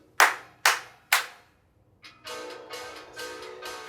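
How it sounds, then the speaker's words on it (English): Three sharp hand claps from a group of children, evenly spaced, followed after a short pause by a softer burst of scattered clapping. "Professor Says, clap your hands 3 times"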